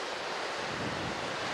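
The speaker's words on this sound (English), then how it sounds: "Crashing on the beach." Ocean waves break on the beach at Sea Isle, 59th Street, a continuous close roar of surf mixed with wind buffeting the microphone.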